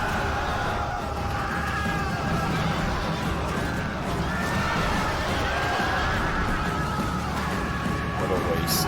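Horses whinny amid the din of a Rome Total War Barbarian Invasion battle, several neighs rising over a dense wash of combat noise while someone talks throughout.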